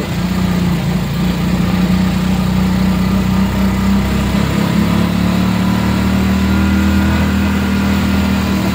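A motorized tricycle's engine runs steadily from inside the cabin, a loud continuous mid-to-low drone with a slight rise and dip partway through, and no voices.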